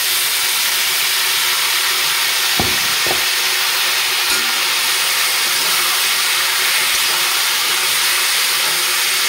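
Frying potatoes hiss and sizzle loudly in a pan as tomato and green chili paste is added, a dense steady sizzle with a couple of brief knocks of a utensil partway through.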